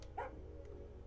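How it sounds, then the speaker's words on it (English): A single short, close dog bark rings out from the video game Calico, followed by a faint second yip, over a steady low background hum. "that's a dog!"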